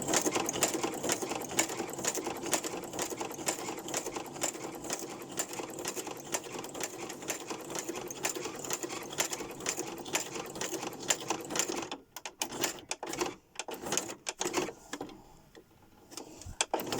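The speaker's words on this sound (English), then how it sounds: "I'm just going to sew straight across to the edge there and then backstitch" A sewing machine stitching straight across fabric to the edge with a backstitch, a fast, steady mechanical whirring chatter that runs close and continuous, then breaks into short stop-start bursts and pauses near the end.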